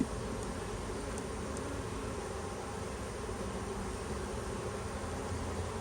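Honeybee swarm gathered below a trap, a constant thick buzz of many bees filling the space evenly and close, without any talking.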